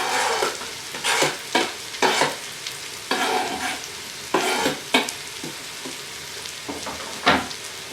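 Food browning on the sauté setting of an Instant Pot for chicken pot pie, with a steady sizzle broken by repeated bursts of stirring and scraping in an uneven rhythm, close and fairly loud.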